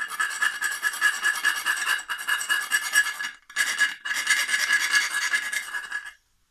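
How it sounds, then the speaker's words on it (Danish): Hand file rasping away material at the terminal box gland hole of a Sabroe HCA 33 refrigeration compressor, close, rhythmic back-and-forth strokes with two short pauses before stopping. "Lad os lige prøve at file det der væk"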